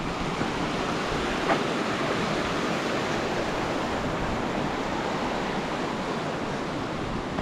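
A small mountain creek, Petite Creek on the Tin Cup Loop trail in Idaho's Sawtooth range, flows and rushes in a steady, broad hiss of water heard up close, with no talking.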